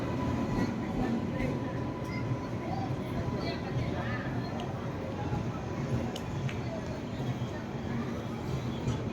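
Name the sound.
electric locomotive pulling a train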